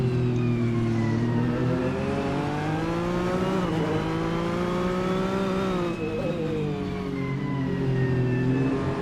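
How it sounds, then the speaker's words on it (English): Race car in a racing game at Circuit of the Americas, engine revving hard with wheel spin out of slow turns, a loud continuous whine climbing and dipping in pitch over several seconds with no voices. "really struggling with wheel spin out of these slow turns"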